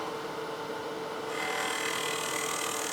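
A hand scraper cuts the inside of a figured maple box spinning on a wood lathe, giving a continuous close rasping hiss that grows louder and brighter partway through.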